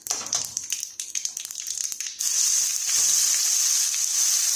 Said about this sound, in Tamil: கடுகு உளுத்தம்பருப்பு போட்டு கொஞ்சம் காயப்பொடி, 2 வரமிளகாய் போட்டு தாளிச்சிட்டு இதை போட்டு கிண்டிடுவோம்